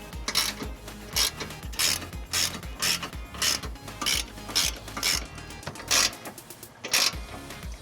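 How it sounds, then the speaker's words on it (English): A 1/2-inch ratchet with a 19mm socket snugs trailer hitch bolts on a 2008 Jeep Grand Cherokee, giving a steady run of loud, close ratcheting clicks in quick repeated bursts, with no talk. "using a 1/2-inch ratchet and a 19mm"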